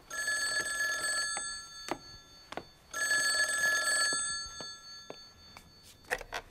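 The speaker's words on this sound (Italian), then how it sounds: "Il telefono!" An old telephone bell rings in a film scene, two long loud rings separated by a pause, with faint thuds and small background noises between them and no talk.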